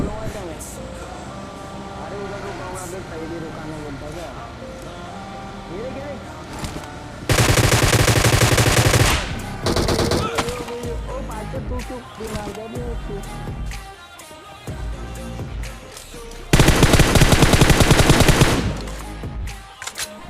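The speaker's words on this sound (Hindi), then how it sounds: "यहाँ आते ही हमें फायरिंग का साउंड सुनाई देता है" Automatic gunfire in the PUBG Mobile battle royale game, with two loud sustained bursts of rapid shots over a busy game soundscape and background music.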